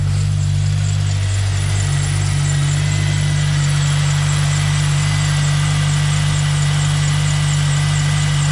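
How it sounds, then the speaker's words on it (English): A Toyota Celica fitted with a Rotrex supercharger idles loud and close, a steady deep rumble with a smooth, even pulse and a faint belt whine riding over it, unbroken from start to finish. "So the engine sounds lovely. Little bit of a belt noise"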